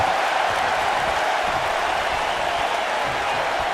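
Broadband crowd noise from a WWE 2K19 wrestling match, a steady, dense roar of cheering and applause that holds level from start to finish without a break.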